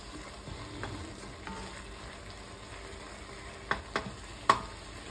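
Garlic heating in a pan with a soft, steady sizzle, broken by a few sharper clinks of a utensil against the pan toward the end; no one speaks.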